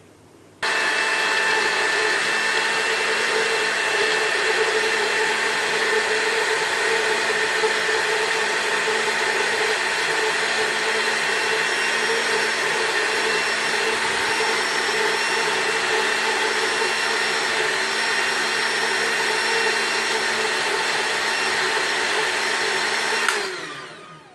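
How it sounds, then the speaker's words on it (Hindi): A blender whirs loudly and continuously for over twenty seconds, mixing a mint margarita with soft drink, starting and stopping abruptly with a steady high-pitched motor whine and no talking. "अब इसको फिर से हम अच्छे से ब्लेंड करेंगे।"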